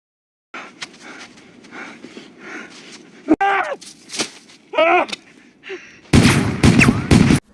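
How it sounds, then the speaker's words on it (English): Several gunshots ring out in a tense TV drama scene, sharp separate cracks spaced among heavy breathing and gasps, ending in a louder cluster of blasts. "Because of Paulie's frustration and his decision to fire his gun multiple times in frustration"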